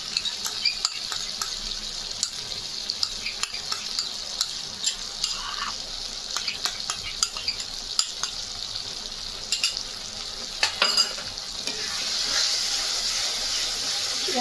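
Yogurt stirred into jackfruit and prawns frying in a pan, giving a steady close sizzle with repeated scraping and clinking stir strokes throughout, no voices.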